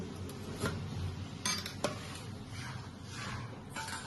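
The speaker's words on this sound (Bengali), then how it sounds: "এবার ঢাকনাটা আমি লাগিয়ে দিচ্ছি।" A few faint metallic clinks and knocks sound against a quiet kitchen background as a lid is set onto a cooking pot for steamed singi fish.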